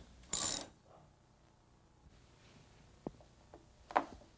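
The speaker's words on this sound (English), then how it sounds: "Now adjust the chain and cable tension by tightening the adjustment screw with a 7/16 inch socket wrench." A 7/16 inch socket wrench turns the chain adjustment screw on a Stanley garage door opener, with a sharp loud burst of ratcheting, then quiet and a few scattered clicks and metallic taps.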